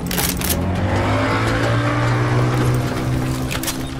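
A motorboat engine in the video game Call of Duty: Modern Warfare drones steadily with a low, constant hum and a rushing wash of water over it, loud and close throughout.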